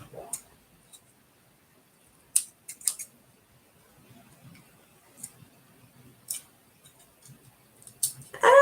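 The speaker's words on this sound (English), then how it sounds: "Maybe I should cut off the tape before I put it on." Scissors snipping tape during Christmas tree soap making, sparse crisp cuts and clicks spread out over quiet background, with a louder handling noise at the end.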